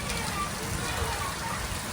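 Rain and hailstones drum on clay roof tiles in a thunderstorm, a steady close wash of patter at moderate level without pauses.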